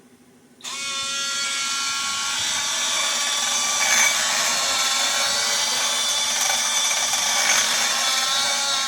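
A notched grinder wheel chamfering small metal parts during a rear end upgrade, a steady high-pitched whine that starts abruptly and runs on continuously and fairly loud, with faint scraping surges where the metal meets the wheel.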